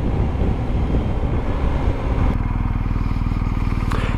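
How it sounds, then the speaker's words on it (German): A 136 hp BMW GS motorcycle engine pulls hard with a loud, steady growl. Heavy wind buffeting covers the first half, and the engine note becomes clearer and more even after that. "Jetzt möchte ich doch noch mal den 136 PS die Sporen geben."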